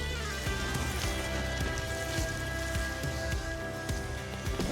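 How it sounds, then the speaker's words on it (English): Water from a hose sprays steadily onto a motorcycle nose cone, rinsing off detergent with a constant hissing patter, close and even throughout. "Right, nose cone. Again, rinse it off."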